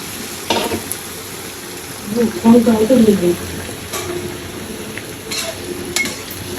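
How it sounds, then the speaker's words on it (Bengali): Fish fat frying slowly in a pan in a home kitchen, giving a soft, steady sizzle with occasional stirring scrapes and clinks, and a brief voice partway through. "তেল মাছের তেল এখন ভাজবো আস্তে আস্তে করে ভাজবো"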